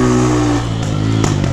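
A small work motorcycle engine idles and revs close by, its steady rumble holding a low pitch that shifts slightly partway through, with a few light clattering knocks near the end.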